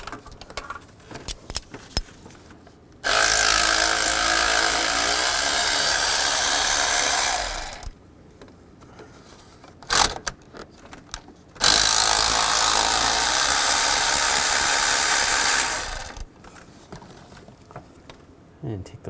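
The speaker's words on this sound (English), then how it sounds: "Then I can go back with the electric ratchet," An electric ratchet spins nuts off the water pump of a 2010-2017 Chevrolet Equinox, running in two long, loud, steady whirring bursts of several seconds each, separated by clanks and clicks of tools in the quieter gaps.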